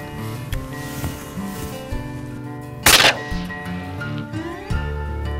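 A single sharp, loud shotgun blast cracks out close by during a duck hunt in South Africa, cutting through a steady droning outdoor background.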